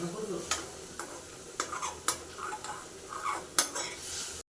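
Chicken stews with salt and turmeric in a pot while a utensil stirs it, with soft sizzling underneath and repeated sharp scrapes and clinks of metal against the pan at an uneven pace.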